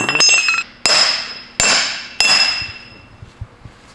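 A hammer strikes a car part during reinforcement work on a BMW E36, four sharp metallic blows with ringing decay, loud and close, spaced unevenly with no talking.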